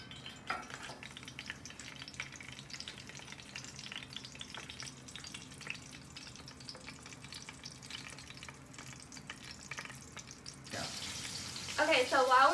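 Short ribs searing in hot oil in a pan, a steady dense sizzle and crackle running throughout at close range, growing brighter and louder near the end.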